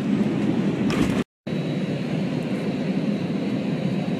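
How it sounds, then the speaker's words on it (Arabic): An airplane passes at Sharjah airport with a steady, loud broadband engine roar that fills the whole stretch, broken only by a brief dropout near the start. "شوف تويوتا وقفت عشان الطيارة تعبر هذا مطار الشارقة"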